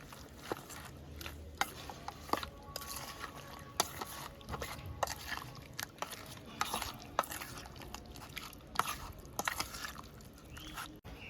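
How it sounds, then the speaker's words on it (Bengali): Chicken pieces being mixed by hand with salt and mustard oil, giving soft wet squelches and light taps against a bowl in an irregular rhythm throughout. "এবার এই মাংসটা মাখিয়ে নিচ্ছি।"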